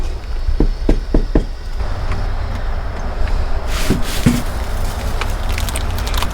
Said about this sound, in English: I'm just going to do a couple of knocks real quick